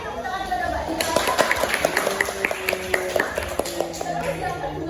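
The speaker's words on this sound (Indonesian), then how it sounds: "Ayo tepuk tangan kepada Mbak Dila." Scattered hand claps break out over a busy classroom with people talking, irregular and moderately loud, building briefly rather than sustained applause.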